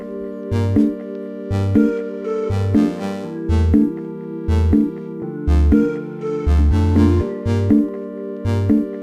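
Sampled funk guitar stabs, drift synthesizer chords and single sampled instrument notes layered together in a rhythmic, looping groove with punchy pulses and sustained chords, music only with no voices.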